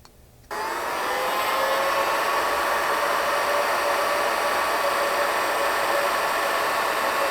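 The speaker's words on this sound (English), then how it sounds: "you can grab a heat gun and shrink these down" A heat gun blasts hot air onto heat-shrink wire connectors while splicing wiring for a Ford Bronco rear bumper install, switching on abruptly and then holding a loud, steady, close roar without talk.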